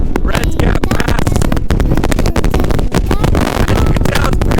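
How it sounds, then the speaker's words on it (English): Loud, constant wind buffeting the microphone atop Red's Gap Pass in Glacier National Park, a dense roaring rumble with gusty fluctuations and no clear pauses. "As you can tell, it's pretty windy"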